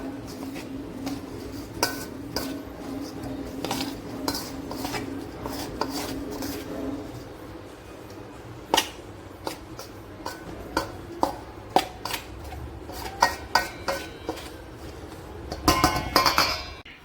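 Laddu ingredients with gram flour being mixed in a bowl, giving repeated close clinks and scrapes of a spoon against the dish, irregular and sharper toward the end, with no voices.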